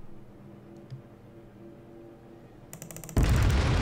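Kongo battleship main guns firing in World of Warships, a sudden loud broadband blast that arrives late over a low engine drone, after a few faint clicks and a short buildup.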